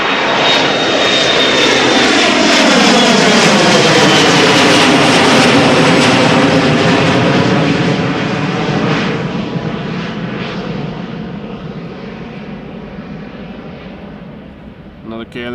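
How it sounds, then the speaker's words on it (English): A KLM Embraer 175 jet airliner takes off with a loud, rumbling engine roar whose tones sweep and shift as it passes, then gradually recedes, all close and powerful over roughly fifteen seconds. "Another KLM Embraer 175 taking off."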